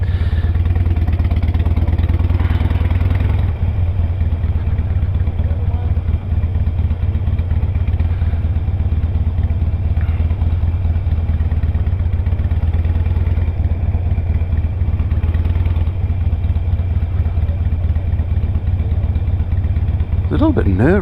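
Motorbike engine droning steadily while riding at night, a continuous low rumble with wind noise throughout, fairly loud and close, with no clear speech over it.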